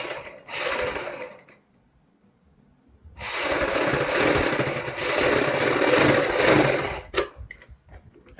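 A sewing machine stitching piping onto a kurti runs in a loud, fast mechanical whir, stopping briefly into near silence before starting up again for a longer steady burst that ends with a few clicks.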